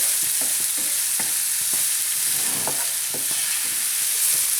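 Chopped onion sizzles steadily in a pan as the base for a lamb curry paste, with a constant frying hiss and light, irregular scrapes and taps from stirring, close up and with no talk.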